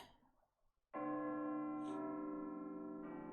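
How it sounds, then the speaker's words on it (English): A single bell strikes cleanly in the Blue Archive video game, its long sustained ring following a brief faint swell before it and a second softer strike near the end, heard alone without talk. "Bell ring."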